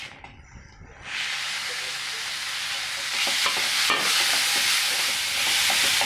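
Onion, tomato and curry leaves hit hot oil beside fried peanuts for vermicelli upma. After a brief quiet moment a loud, dense hiss of frying bursts in and holds steady, with occasional stirring scrapes, close by.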